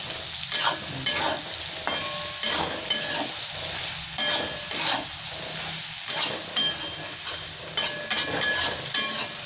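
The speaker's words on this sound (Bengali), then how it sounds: "কড়ার মধ্যে আমি দিয়ে দিয়েছি, এবার ভালো করে এটাকে ভেজে নেব।" Soybean chunks frying in oil in a kadai while being stirred, a steady sizzle broken by repeated scraping strokes of the spatula at a fairly even pace, close up and without speech.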